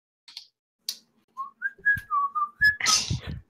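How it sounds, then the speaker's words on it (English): Someone whistles a short, wavering run of notes that slide up and down, spaced with brief gaps and followed by a burst of rustling noise at the end. "He sort of whistles still."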